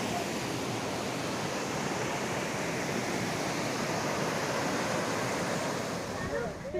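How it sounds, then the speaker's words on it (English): A waterfall just before Trimbakeshwar gives off a steady, dense rushing roar that stays loud and unbroken from start to finish, like continuous close-range falling water with no pauses. "Just before reaching Trimbakeshwar there was some nice waterfall here."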